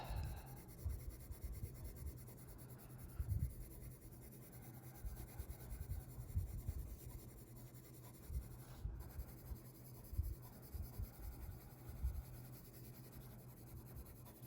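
A colored pencil shades skin tones on paper in soft, close scratchy strokes that come in short repeated bursts over a quiet background.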